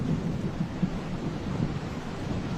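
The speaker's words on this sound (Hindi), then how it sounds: "बारिश भी रुकने का नाम नहीं ले रही है।" A movie scene has pouring rain and thunder: a dense, continuous roar of rainfall with a deep, rumbling undertone that stays loud throughout, with no voices.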